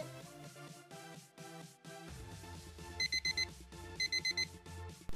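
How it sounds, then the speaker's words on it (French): A bedroom alarm clock rings with a repeating electronic melody, joined by bursts of rapid high-pitched beeps in short groups, fairly close and steady, with no talking. "Donc du coup mon réveil sonne"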